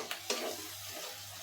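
Spice paste (masala) frying in oil makes a faint, steady sizzle, with two quick clicks of a utensil near the start, quiet and without talk.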